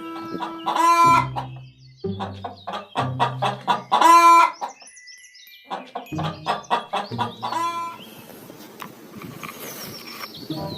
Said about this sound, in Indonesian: Seekor ayam.